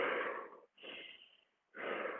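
Deep breaths shown as a calming exercise: a long, airy breath sound, a brief pause, a quieter inhale or exhale, then another strong breath, close and clear with no talk.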